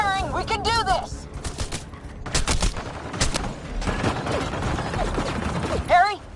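Gunfire in the video game Mass Effect Andromeda comes as rapid bursts of shots and mechanical clatter, loud and close, broken by short gaps, with a voice shouting between volleys.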